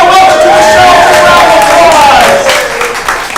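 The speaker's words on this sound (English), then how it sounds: "Round of applause." Studio audience applauding on a television show, a broad steady wash of clapping with some crowd noise that holds loud for a few seconds before easing off.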